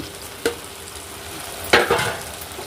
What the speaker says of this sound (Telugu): చూడండి ఇప్పుడు మిల్ మేకర్ వేసుకు వేసేస్తున్నాను